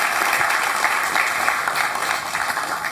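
A studio audience gives a big round of applause to a woman guest on a Hindi talk show. Close, dense clapping holds steady and strong for the whole stretch.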